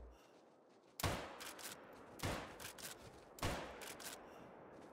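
Three loud, sharp rifle shots in a Call of the Wild hunting game, each cracking out and rolling into a long echoing tail, spaced about a second apart over a quiet outdoor ambience.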